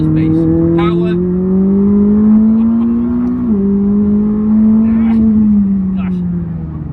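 A McLaren 600LT's engine revs and pulls hard under acceleration, its strong droning tone climbing steadily, dipping briefly at a gear change, then rising again, loud and continuous throughout.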